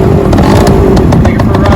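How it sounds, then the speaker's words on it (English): A 1967 Yamaha U5E 50cc scooter engine is started and runs loudly up close, with a steady buzzing drone from the small motor. "Just put the gas on here, turn the key on, fire it right up."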